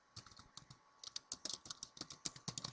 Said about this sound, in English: I mean, type the items.